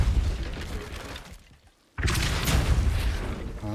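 Depulso force spell cast in Hogwarts Legacy, a dull booming burst that cuts in after a brief near-silent gap, followed by a rumbling, crackling wash of magical energy.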